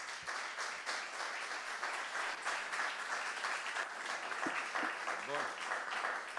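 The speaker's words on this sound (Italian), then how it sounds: "Un bel applauso." An audience at a Venetian food-excellence conference applauds, continuous crowd clapping over about six seconds with a few faint voices and brief tonal sounds mixed in near the end.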